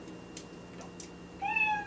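A single cat meow sound effect arrives near the end, rising clearly over a quiet background with faint clicks before it.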